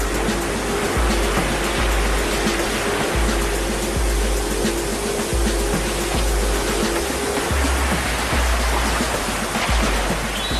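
River rapids where salmon swim upstream, a loud, continuous broadband roar of rushing water with a low rhythmic thumping underneath, no voices.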